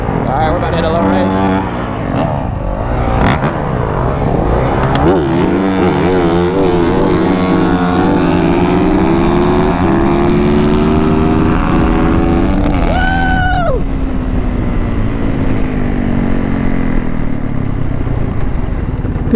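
Yamaha Banshee ATVs racing for money in Florida, their loud two-stroke engines revving hard and rising in pitch as machines pass close by. Continuous roar with shifting tones, and people talk over the noise.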